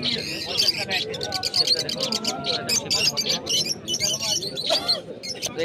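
Pigeons, including Giribaz and Madras breeds, chirp and coo throughout a busy pet market in Kalyani, Nadia. The calls are close, with a constant crowd murmur and a person talking over them.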